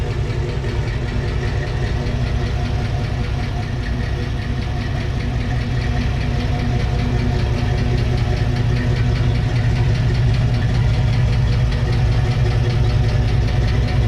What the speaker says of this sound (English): I'm just so stoked to hear the truck running